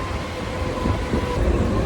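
Steady rumbling roar of a crowded Mumbai local train in motion, heard from inside the carriage, continuous and fairly loud with no clear voices.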